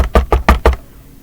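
Knuckles rap on a school office door in four quick, evenly spaced knocks, loud and close, and then the room falls quiet.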